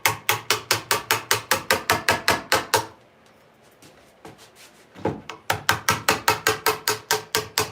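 Rapid, evenly spaced sharp chopping strikes remove glue blobs from a wooden piece. A fast run of hits is followed by a quiet pause with a few faint knocks, then another steady run of strikes.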